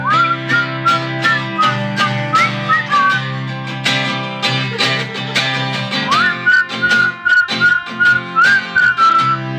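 A person whistles a lively melody up close over rhythmic backing music, the tune rising and falling in clear, steady phrases.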